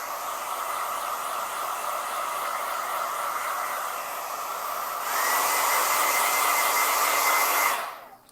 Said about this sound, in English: I'm just going to give it a quick blow dry.